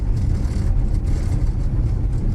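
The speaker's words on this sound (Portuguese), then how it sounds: "Estamos andando aqui com o carro." A Fiat Strada pickup driving after its front suspension and steering box were repaired, a steady, loud low engine and road rumble heard from inside the cab, with no rattles or voices.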